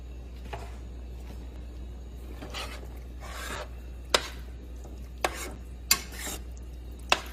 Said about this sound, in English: We'll add in our seasonings and we'll give it another mix.